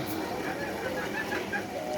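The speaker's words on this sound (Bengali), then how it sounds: "আর এ হচ্ছে গিয়ে দেশি মুরগি" Desi laying hens cluck softly in a coop, with a few short, faint clucks over a steady background hiss and some low voices.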